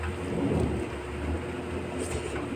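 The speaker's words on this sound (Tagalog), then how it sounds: "Naulan pa rin sa amin. May kulog pa." Steady heavy rain with a deep, rolling rumble of thunder underneath, continuous and fairly loud.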